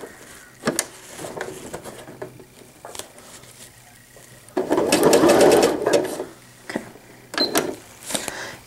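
A sewing machine tacks down a pail liner in several short stitching runs, the longest and loudest burst in the middle of the stretch, with quiet pauses between runs and no talking.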